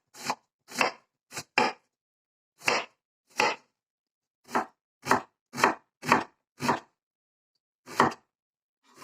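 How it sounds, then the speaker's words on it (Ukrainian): A knife finely chopping onion on a board: about a dozen crisp, separate strokes in irregular bursts, close and clear, with silence between and no talking. "Нарізаємо цибульку, вона має бути дрібно нарізана."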